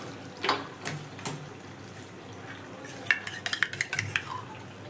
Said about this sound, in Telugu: ఇప్పుడు ఒకసారి కలుపుకుందాము చికెన్